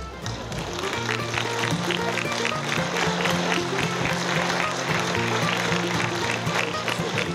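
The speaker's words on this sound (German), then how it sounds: "begrüßen die Eröffnung des Umzuges mal mit einem riesen Applaus" Crowd applause greeting the opening of a harvest festival parade in Reutte, Tyrol: a dense patter of outdoor clapping over several seconds alongside steady music, moderately loud.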